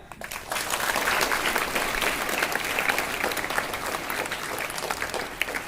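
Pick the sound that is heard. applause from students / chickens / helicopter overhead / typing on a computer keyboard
applause from students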